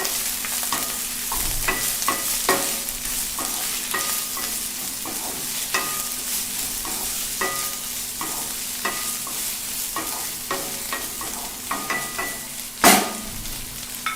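Shewali flowers fry in a pan with a steady close sizzle while a utensil stirs and scrapes in repeated strokes, ending with one louder clatter.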